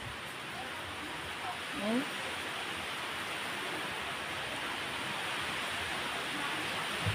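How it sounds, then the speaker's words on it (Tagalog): Rain falls with wind blowing outdoors, a steady broadband hiss that stays constant from start to finish, with a brief exclamation from a voice near the start. "Hangin na po, nag-ulan-ulan."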